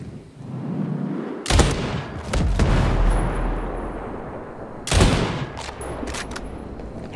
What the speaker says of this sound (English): Mortar fire coming in.